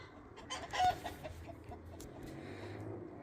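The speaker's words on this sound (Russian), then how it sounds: "Петух возмущается." Rooster in a farmyard hen run, clucking in short bursts with one louder squawk near the start, fairly close and alone with no talk.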